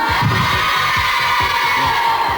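Studio audience applauding on a 1993 French children's video game quiz show after a team scores a point, a dense steady wash of clapping that fills the clip at close range, with a few soft thumps underneath.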